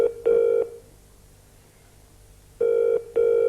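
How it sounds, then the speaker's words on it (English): A British telephone ringing out on the line, two double rings separated by a quiet pause, heard clearly and alone with no talk. "It's ringing out."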